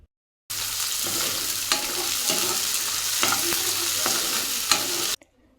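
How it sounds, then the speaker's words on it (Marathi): Finely chopped onions sautéing in oil in a pan, a steady close sizzle with occasional scraping stirs, starting abruptly and stopping after about five seconds. "कांद्याला हलक्या गुलाबी रंगावर परतून घेऊयात"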